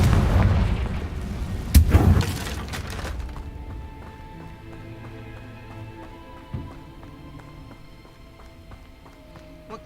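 A Confringo blasting spell in Hogwarts Legacy goes off as a loud, rumbling explosion that peaks early and then fades. Light game music and a faint later impact follow.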